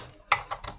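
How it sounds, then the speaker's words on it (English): Cables are plugged into an Atari 1088XEL computer, giving three quick close clicks and clacks of connectors seating, each short and sharp. "Right, plug everything in."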